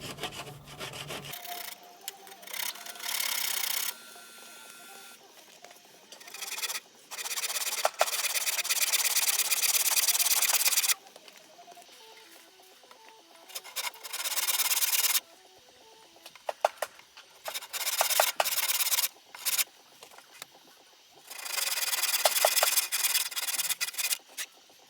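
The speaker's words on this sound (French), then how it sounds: "je dégrossis le travail à la scie à main" A hand saw rips through a round wooden post while a tenon shoulder is roughed out, with bursts of rasping back-and-forth strokes broken by short pauses, close and fairly loud.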